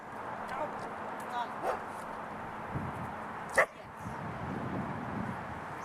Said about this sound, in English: that barking is just excitement level now